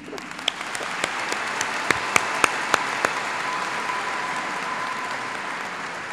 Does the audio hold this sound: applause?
yes